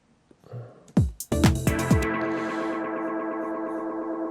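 Sharp synth chord stabs ring out and repeat as echoes, then settle into a sustained shimmering chord tail that keeps feeding back, loud and steady.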